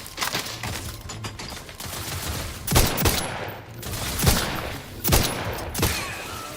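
Gunfire from The Outer Worlds 2 rattles in quick bursts, with several sharp, loud shots standing out above a continuous low hum and scattered clatter.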